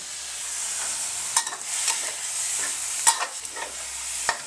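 Coconut milk going into a pot of pork and barometer earthstar mushroom curry, with steady soft sizzling and a few spoon scrapes and stirs against the pan, close and moderately quiet, no voices.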